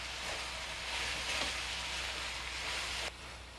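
Tomato chutney with red chili powder, sugar and coriander powder cooking in a pan, a continuous soft sizzle with faint stirring scrapes, ending in a sudden drop in level near the close, no talking.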